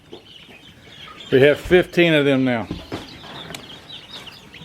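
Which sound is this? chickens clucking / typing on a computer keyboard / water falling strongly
chickens clucking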